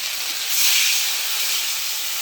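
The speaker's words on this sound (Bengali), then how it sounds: "তেল ছেড়ে আসছে, এবার জলটা দিয়ে দেবো।" Water poured into hot oil and spices in a pan sets off a loud, steady hiss that swells briefly near the start and then holds as a sustained sizzle, close by and alone.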